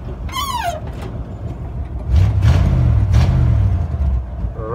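A Ford F100 shortbed pickup engine runs with a low, steady rumble that starts partway through and holds, after a brief high chirping sound near the beginning.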